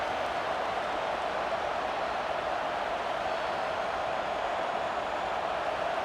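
A stadium crowd roars in a College Football 26 video game as USF plays Florida, a steady, dense wash of distant cheering with no clear breaks and no commentary over it.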